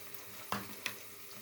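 An ingredient sautés in a pan for a home-style cauliflower dish: a faint, steady frying hiss with two brief utensil scrapes as it is stirred, no voices.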